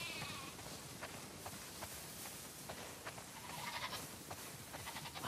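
Sheep bleat in a crowded flock in the video game The Last of Us Part 2, several overlapping calls at moderate distance over a busy outdoor ambience.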